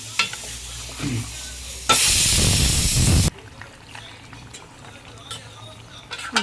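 Chicken and drumstick curry is stirred in a hot pan, a loud burst of sizzling hiss for about a second and a half amid softer scraping and clinks, with brief talk nearby.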